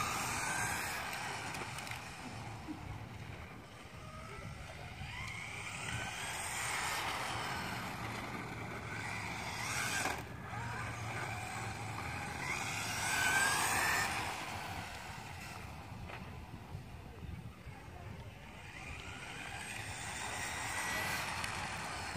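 Traxxas 4Tec 2.0 RC car with a Ford GT body and a two-wheel drive swap, on a 6-cell battery, driving around with a fluctuating electric motor whine and tire rumble that swells and fades as it passes.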